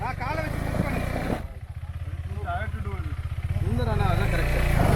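KTM motorcycle engine revving with the throttle, a close buzzing drone rising and falling in pitch through short blips, with a voice speaking over it throughout.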